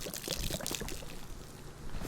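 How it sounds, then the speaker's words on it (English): Water splashing from a canteen thrown through the air in the DayZ video game, a rushing, pouring wash of liquid that runs steadily for about two seconds with no talk over it. "I'm gonna throw it right past you. And you're gonna hear water go by you."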